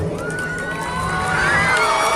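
A crowd at a school anniversary celebration cheering and shouting with children's voices rising above, loud and continuous, swelling toward the end.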